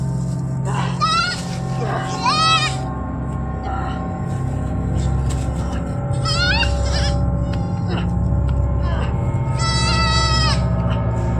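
Several goats bleat in short wavering calls, close and clear, over a constant low background hum, with a few bleats spaced across the clip.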